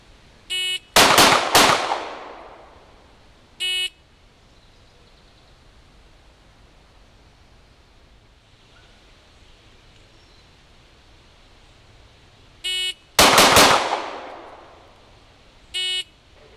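Pistol shots from an M&P fired at 2 yards while point shooting, two loud sharp reports far apart, each with a short electronic beep before and after it, over quiet background hiss.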